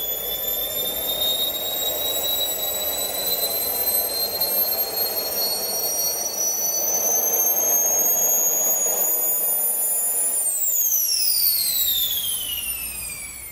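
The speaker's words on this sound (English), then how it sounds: "So Tom, we are going to show you the running of a model jet engine, and it's burning our synthetic jet fuel" A model jet engine burning synthetic jet fuel runs loud and close with a piercing whine that climbs steadily in pitch, then spools down near the end under a roaring rush, with no talking.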